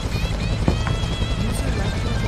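A medical helicopter in a Vietnam War video game, its steady rotor drone filling the whole stretch loudly and continuously, close by, with faint game sounds but no talk over it.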